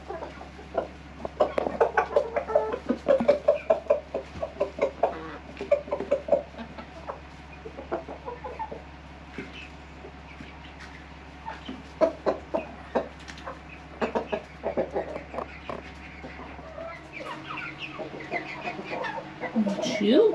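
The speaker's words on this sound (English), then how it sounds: "we're going to throw to the chickens" Backyard chickens on an Alaskan homestead cluck and chatter as they peck at tossed garden scraps, a close, busy stream of soft clucks and calls with a low hum behind.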